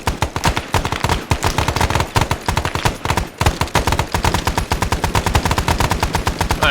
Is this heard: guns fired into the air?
yes